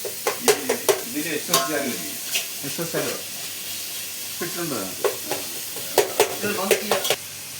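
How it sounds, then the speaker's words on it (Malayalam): Onions frying in a pan for sardine curry, with a spatula scraping and clacking in repeated bursts over a continuous sizzle. People talk at times in between. "ഉള്ളി വാടി വരുന്നതേ ഉള്ളൂ അടക്കുന്ന അങ്ങോട്ട് വാടട്ടെ"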